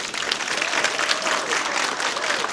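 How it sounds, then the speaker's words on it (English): A crowd at an elementary school poetry jam claps steadily and loudly, a dense wash of applause with faint voices mixed in underneath. "Can we give everybody a round of applause?"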